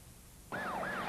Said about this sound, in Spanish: Puede que hayan notado que las sirenas suenan con tono alto cuando vienen hacia ti, y cuando se alejan, el sonido es de tono bajo.